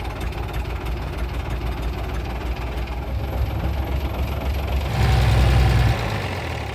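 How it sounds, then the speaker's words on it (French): A diesel engine of a camper van running after an oil change, a steady knocking idle rumble that rises briefly in a louder rev near the end, close by with no talk. "Je vais démarrer le moteur"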